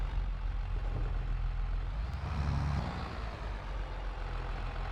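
Tractor engine in the Farming Simulator 22 video game, a steady low diesel rumble with a slight swell in the middle, heard alone without talk.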